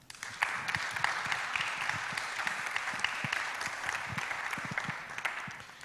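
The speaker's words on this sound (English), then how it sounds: "A round of applause, please, for our speakers." An audience at a live climate-event panel applauds the speakers with sharp, distinct claps that stay fairly steady for several seconds, moderately close.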